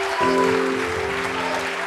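A church congregation claps during a Portuguese-language worship service, a brief burst of clapping blended with a sustained keyboard chord ringing underneath.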